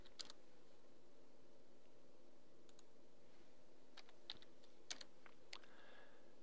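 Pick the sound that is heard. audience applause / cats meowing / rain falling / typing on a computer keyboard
typing on a computer keyboard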